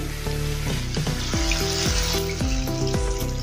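Water splashes into a hot pan of dahi pyaz sabji (yogurt and onion curry), setting off a loud, steady sizzle and bubbling with a few scraping stirs, and no talking.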